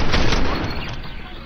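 Fortnite gunfire from slowed-down footage, a dense, loud, smeared burst of rapid shots that sounds stretched and unnatural, gradually thinning out over a second and a half.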